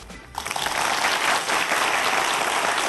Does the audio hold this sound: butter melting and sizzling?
no